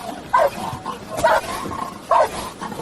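A dog barks in three sharp bursts during a police chase, fairly close, with roadside noise filling the gaps between barks.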